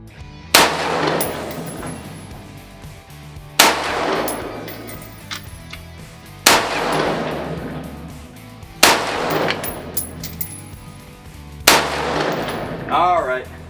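Five loud rifle shots ring out at a shooting range, fired one at a time about two to three seconds apart, each a sharp crack followed by a decaying echo, with no one talking.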